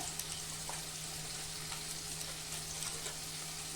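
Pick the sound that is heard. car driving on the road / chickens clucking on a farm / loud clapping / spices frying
spices frying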